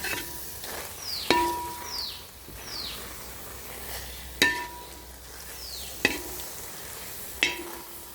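Jackfruit stir-fry cooking in ghee, a soft steady sizzle with several sharp metallic taps of a spatula against the pan spaced a second or two apart, close and without voices.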